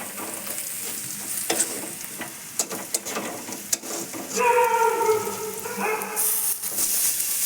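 Boiled banana flower, chickpeas and potato get stirred with turmeric and coriander powder in a hot pan, giving scraping spatula strokes over a low sizzle that swells into a louder, steady fry.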